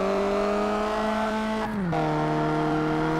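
A car in the XLR8 racing video game slides sideways through corners, its steady engine drone holding a whining pitch that briefly dips and shifts mid-slide before settling again.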